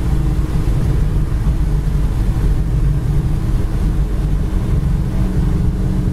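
A red 1935 Ford with a steel body cruising down a bumpy stretch of highway, heard from inside as a steady low engine and road rumble with no talk.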